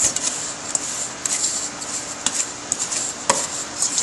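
Butter and sugar being creamed by hand with a wooden spoon in a bowl, a steady scraping and rubbing with irregular soft knocks, close and moderately loud, no voices.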